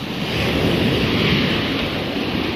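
Sea surf washing steadily onto the shore on a seaside walk, a continuous broad roar of waves mixed with wind, close and fairly loud, with no voices.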